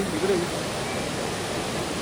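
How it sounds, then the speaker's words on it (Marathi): Hot spring water pours steadily at the Badrinath hot pools, a continuous close rushing splash that fills the short moment with even, unbroken noise. "हे जे गरम पाणी पडतंय इकडे"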